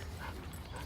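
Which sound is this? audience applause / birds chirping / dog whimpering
dog whimpering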